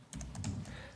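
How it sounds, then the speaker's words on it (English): Quick typing on a computer keyboard while setting up sign-in for Microsoft 365 and Intune, a short close burst of soft clicking keystrokes with no talking. "And then we're going to type"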